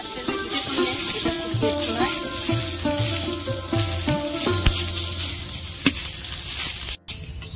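Batter frying in hot oil in a wok, a steady sizzle running throughout with background music over it and a brief dropout near the end.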